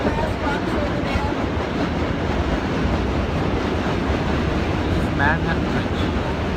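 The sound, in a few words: subway train crossing the Manhattan Bridge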